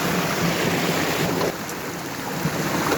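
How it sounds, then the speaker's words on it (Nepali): A waterfall on a hiking trail in Shivapuri National Park, Nepal, producing a loud, steady broadband roar of rushing water that fills the whole clip without a break, with no voices. "झरना हिँड्दै यहाँ आइपुग्यो फाइनली।"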